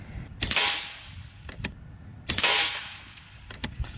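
An air rifle shooting AEA pellets gives two sharp, close cracks about two seconds apart, each followed by a short hissing decay, with a few lighter clicks and knocks of handling in between.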